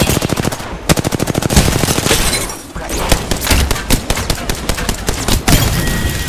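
Rapid automatic gunfire bursts in the battle royale game Apex Legends, a dense run of sharp evenly spaced shots, then a pause and scattered loud shots and impacts, with no talk.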